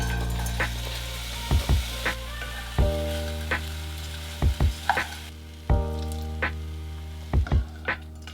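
Vegan dish with sun-dried tomatoes and pesto heating in a pan, giving a steady low sizzle with periodic sharp clinks and scrapes of a utensil against the pan.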